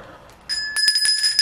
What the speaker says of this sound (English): I bought a bell